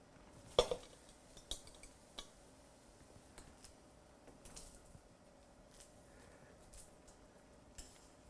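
Metal spider strainer clinks against a pot while lifting food out of boiling water, with a sharp knock near the start and scattered lighter taps and scrapes after, close by in a quiet kitchen.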